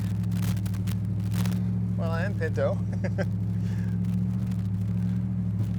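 A Dodge Ram HEMI truck fitted with a Flowmaster dual exhaust gives off a steady, deep engine rumble heading toward an off-road hill, droning loud and unbroken beneath someone talking.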